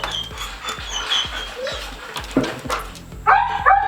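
A nervous dog whimpers and gives short yips near new wooden dog stairs, with scattered thumps and faint movement noise before louder whining cries at the end.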